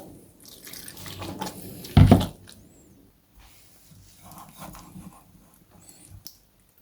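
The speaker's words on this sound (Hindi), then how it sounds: "थोड़ा सा पानी और डाल देंगे।" Water trickles and splashes into a bowl of batter in short bursts, with one louder splash in the middle and faint drips afterward.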